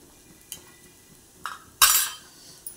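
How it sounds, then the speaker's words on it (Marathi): Utensil clinks and a scraping stir through chana masala ingredients in a pan, a few faint taps followed by one louder, brief mixing scrape near the end. "ते सगळं मिक्स करायचं."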